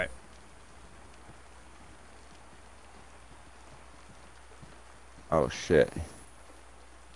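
Steady broadband rain in a video game hisses through the whole stretch while someone talks, with two short loud bursts of voice near the end.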